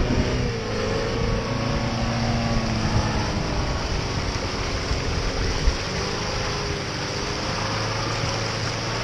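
A Moskvich 412 on snow chains churns off-road, its engine a steady loud rumbling drone with broadband roar that runs unbroken throughout.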